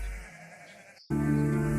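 A young goat's bleat sounds close and loud, a sustained wavering cry that begins abruptly after a brief quiet moment.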